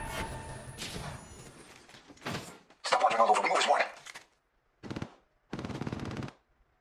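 Automatic gunfire from the mobile battle royale game Apex Legends Mobile comes in loud, separate bursts split by short silences, along with a few thudding impacts.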